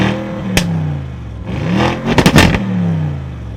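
An Audi RS7 with twin exhausts revs in short, loud bursts, the engine note rising and falling twice with a crackling blip between, heard up close with no talking.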